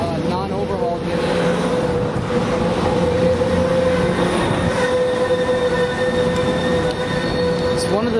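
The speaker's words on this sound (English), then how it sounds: "That's an Amtrak Surfliner F59 PHI." An Amtrak Surfliner F59PHI diesel locomotive, an older unit not yet overhauled, rolls past at Fullerton with a steady loud rumble, sustained engine drone and faint wheel squeal throughout, close by and continuous.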